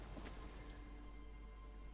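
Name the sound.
rain falling in video game Disco Elysium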